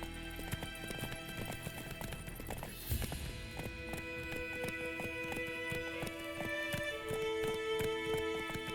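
Horse hooves galloping in the video game The Witcher 3, a rapid rolling clip-clop under steady game music and ambience, continuous across the whole stretch with no speech.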